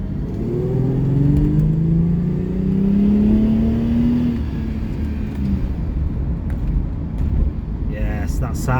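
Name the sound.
Jaguar XJS V12 engine revving through straight pipes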